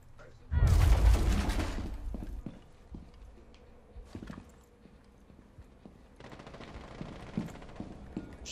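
Heavy gunfire in Rainbow Six Siege: a loud, sustained burst of rapid shots at the start, followed by scattered fainter shots and clatter, with voices speaking over the lull.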